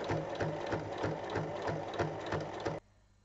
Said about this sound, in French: on va surpiquer de chaque côté de la fermeture à glissière